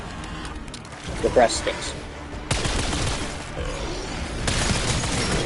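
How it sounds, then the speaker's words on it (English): Video game explosions and rapid gunfire burst out in dense, loud rumbling blasts, with sharp surges around the middle and near the end, while someone talks over the action. "Explosion."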